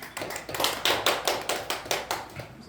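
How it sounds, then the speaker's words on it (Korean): A church congregation claps together in a steady, rhythmic beat at a Sunday worship service, about a dozen evenly spaced claps in a row, moderately loud and close, with no talking over them. "박수하겠습니다."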